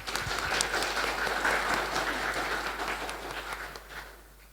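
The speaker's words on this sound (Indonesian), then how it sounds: "Berilah tepuk tangan yang meriah." An audience in a school hall applauds after a middle school student council candidate debate, clapping steadily and then gradually fading.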